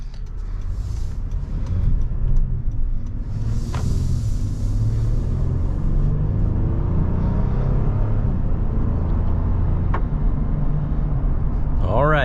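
Low engine and road rumble inside a 2023 Honda Pilot on an evening test drive, steady and muffled, with someone talking over it.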